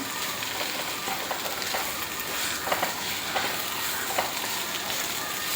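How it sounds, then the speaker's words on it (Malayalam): A vegetable curry with black pepper and garam masala is stirred in a hot pan: a steady close sizzle runs throughout, broken by several irregular spoon scrapes against the metal, with no talking. "കുരുമുളകും ഗരം മസാല ഇട്ട് നമുക്ക് നന്നായിട്ട് ഇളക്കി യോജിപ്പിക്കാം."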